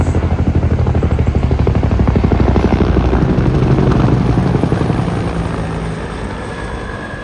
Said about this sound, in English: And there's a helicopter up high in the sky up above.